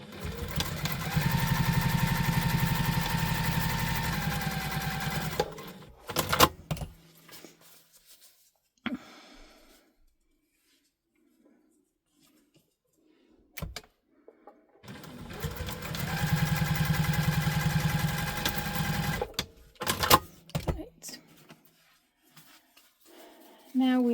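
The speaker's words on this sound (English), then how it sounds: "We're going to sew down here with the seam allowance stated in the pattern" Sewing machine stitching a tote bag seam at construction stitch length, a steady loud whirring run of about six seconds, a quiet pause, then a second similar run.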